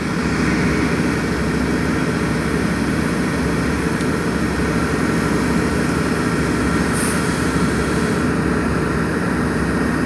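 A Union Pacific freight train idles at Alpine station, a steady broadband rumble of diesel engines holding at constant loudness throughout, close and continuous with no talk.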